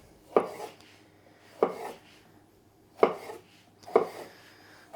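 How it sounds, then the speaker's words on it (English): Knife chops through a red pepper on a cutting board: four sharp, separate cuts about a second apart, close and clear over a quiet kitchen. "1/2 of this red pepper I'm cutting into strips to go on my salad"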